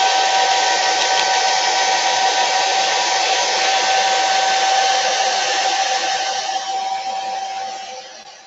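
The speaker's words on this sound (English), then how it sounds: "quick dry tool or you can use a hair dryer, either one." A hair dryer blows steadily at close range with a loud, even whir, then tapers off toward the end.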